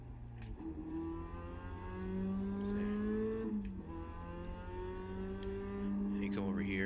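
An iRacing race car engine in the video game drones and shifts pitch as it brakes into a corner, whining tones sliding down then climbing again, heard beneath someone talking.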